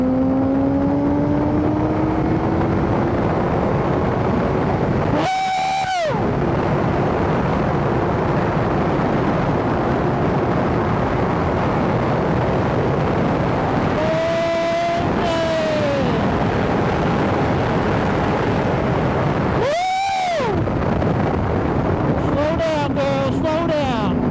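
A 1000cc sport motorcycle ridden at speed, its engine droning loudly under heavy wind rush, with three sharp rev blips rising and falling between gear changes and a quick burst of revs near the end.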